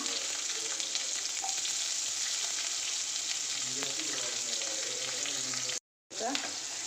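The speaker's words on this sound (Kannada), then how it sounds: "ಬೆಳ್ಳುಳ್ಳಿ ಹಾಕ್ತಾಯಿದ್ದೀನಿ. ಸ್ವಲ್ಪ ಈರುಳ್ಳಿ ಹಾಕ್ತಾಯಿದ್ದೀನಿ." Garlic and onion frying in hot oil with mustard seeds and curry leaves for Andhra-style pappu sambar, a steady bright sizzle with light stirring that briefly cuts to silence before resuming.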